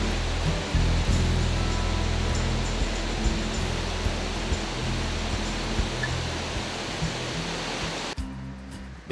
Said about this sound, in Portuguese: a Cachoeira do Salto é um espetáculo e tanto